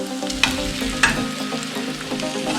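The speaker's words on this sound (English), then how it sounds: "Now I'm adding the grilled potatoes inside." Grilled potatoes tumble into a frying pan of spiced saag aloo and get stirred, with a steady sizzle under a couple of sharp scraping clatters of the spoon against the pan.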